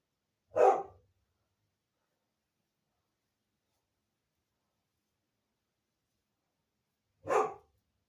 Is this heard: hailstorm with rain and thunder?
no